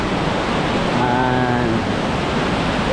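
Amboli waterfalls in Maharashtra roar in a dense, unbroken wash of falling water, loud and close, filling the whole stretch without pause.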